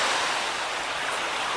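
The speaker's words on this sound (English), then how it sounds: "Now this is the top of one of my favorite little waterfalls. It's called Moose Falls" Small waterfall, Moose Falls in Yellowstone, reached by a short trail: a steady, close, even rush of falling water with no other sounds.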